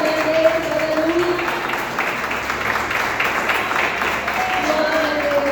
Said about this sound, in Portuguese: Glorifique o nome do Senhor, exalte ele com palmas.